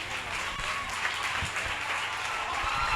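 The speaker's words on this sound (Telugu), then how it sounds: "కొట్టాలి గట్టిగా చప్పట్లు." A Sunday school children's congregation claps hands in a steady, dense burst of applause, close and fairly loud, with no pauses.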